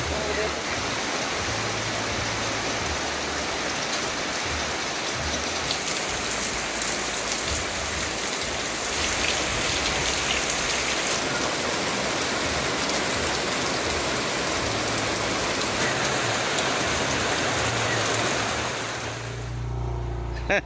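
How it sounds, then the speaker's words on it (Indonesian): Steady morning rain falls beside a hut in a rice field near a river, a dense continuous hiss of drops on surfaces. It holds at an even loudness for the whole stretch with no one speaking. "ini pagi-pagi udah hujan nih kawan-kawan."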